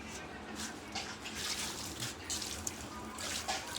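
Water pours from a bucket in a steady, faint stream with a gentle splashing hiss that continues throughout.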